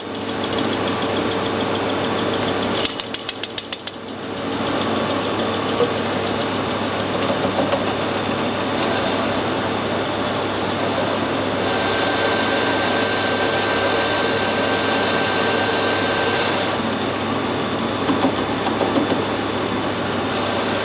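Lathe cutting a 4 TPI thread on a fusible plug with a new tool tip, a loud continuous machine hum and grinding drone close by, with a short break in the sound about three seconds in.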